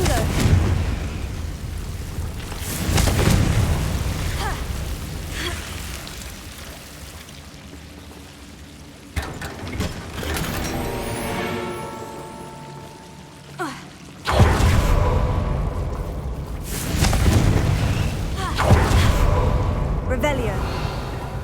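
Confringo fire spells blast repeatedly in the Hogwarts Legacy video game, with several loud bursting explosions separated by quieter crackling stretches and rumbling debris, interspersed with in-game voice lines.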